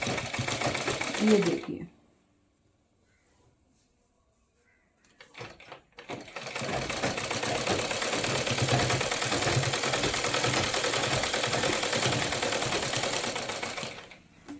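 Sewing machine running steadily for several seconds while stitching the waistband of a Rajputi kalidar lehenga, loud and continuous after a brief pause; someone speaks briefly before it starts.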